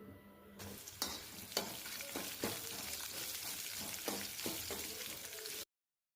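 Chopped small onions fry with drumstick leaves in a pan, a steady sizzle broken by repeated scraping stirs of a spatula, close and fairly quiet, ending abruptly.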